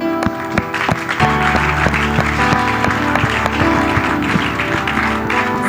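A church congregation applauds during a worship service with loud, sustained clapping, while sharp rhythmic claps and sustained musical tones ring through the crowd noise.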